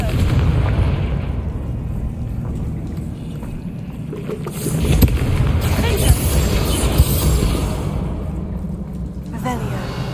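A Confringo fire spell in the video game Hogwarts Legacy bursts in explosive booms over a rumbling ambience, with a louder crackling blast midway and another near the end, while a voice talks underneath.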